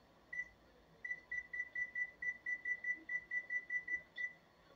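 A kitchen timer beeps in a steady, repeated series of short electronic tones while strawberry jam is being cooked, fairly close and clear over a quiet room background.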